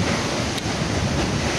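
Typhoon wind battering Bani in the Philippines, a loud, continuous roaring rush with microphone buffeting and no voices.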